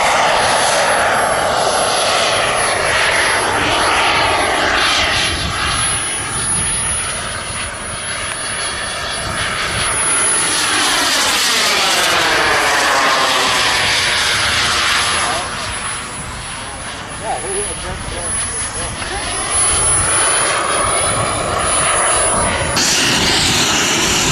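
Model aircraft engines at the Popham Model Air Show drone continuously overhead, swelling and fading as planes pass near and away, with a person talking over the steady roar.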